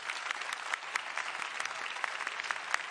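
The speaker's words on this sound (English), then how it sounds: "I will invite you to join me in giving our speakers a very big round of applause." Dense, steady applause from a forum audience for the speakers fills the whole stretch, with many hands clapping at once and a few sharper claps standing out, and no speech over it.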